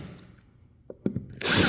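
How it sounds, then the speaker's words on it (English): A drill bores out plugs in the planks of a wooden 1950s boat: a few faint knocks and clicks, then the drill kicks in loudly near the end and keeps whirring. "start drilling out all of these little plugs and taking out the fasteners as well."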